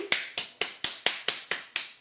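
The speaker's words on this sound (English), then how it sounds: "She begins clapping, slow at first, then faster and more vigorously." Slow clapping plays as a sound effect in the Dream Daddy video game, eight crisp, evenly spaced claps at a steady unhurried pace, each with a sharp attack and short decay, heard alone.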